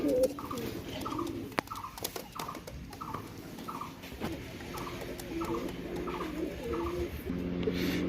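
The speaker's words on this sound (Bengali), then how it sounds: "একদম টপ ক্লাস রেজাল্টেড কবুতর, জালদার কাচুরির বাচ্চা" Pakistani pigeons coo in a repeated, evenly spaced rhythm of soft low calls, fairly close, over a faint background with no talking.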